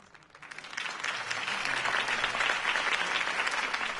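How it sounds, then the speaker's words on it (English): Crowd applause after a Harvey Dent campaign speech in a Batman video game, clapping that swells in and holds at a steady, dense roar, heard from a middle distance with no talk over it. "If only Mr. Wayne, my campaign's largest backer, could have heard that applause"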